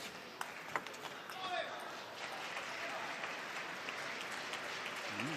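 At a table tennis match in a world championship hall, a crowd claps and cheers in a broad, sustained roar that rises after a few sharp ball taps, while a commentator talks over it.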